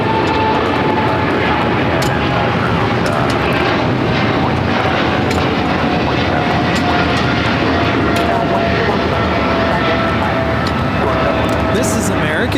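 An American Airlines Boeing 777-300ER takes off from LAX bound for Miami, its engines delivering a powerful, unbroken roar at close range, loud and steady across the whole stretch, with scattered crackles and no speech.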